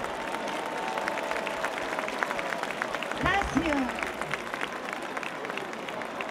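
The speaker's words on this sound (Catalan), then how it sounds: "Un aplaudiment ben fort." Crowd applause and cheering at an outdoor Three Kings parade in Nou Barris, Barcelona, a dense steady wash of clapping with a brief word from an announcer over a loudspeaker partway through.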